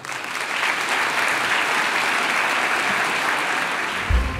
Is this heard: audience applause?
yes